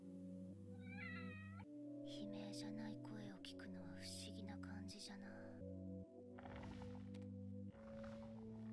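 A cat in Chainsaw Man episode 3 gives a short meow near the start, followed by busy scene sounds with whispering voices and soft movement throughout.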